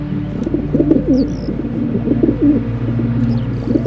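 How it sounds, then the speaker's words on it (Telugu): Pigeons on the ground pecking at scattered sorghum grain give repeated low, throaty coos close by, with a few faint high chirps over the top. "కొన్ని పావురాలు నేల మీదకి వచ్చి జొన్నలు తింటున్నాయి"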